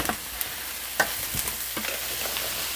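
Chicken and eggplant stir-fry in a hot pan with a constant sizzle, broken by several sharp scrapes and taps of a spatula.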